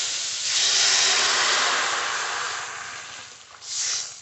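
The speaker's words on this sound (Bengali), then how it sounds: "এবার জল দিয়ে দেবো।" Water poured into a hot pan of fried green mango, a loud steady hiss of steam and sizzle that swells, eases off, then flares up briefly again near the end.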